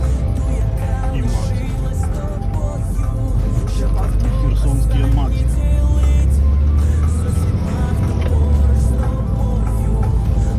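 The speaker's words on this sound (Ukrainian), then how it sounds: "Жигуль шестерка, как был когда-то." Zhiguli VAZ-2106 car driving in Kherson region, a loud continuous engine drone and road rumble heard from inside, with music or voices layered over it.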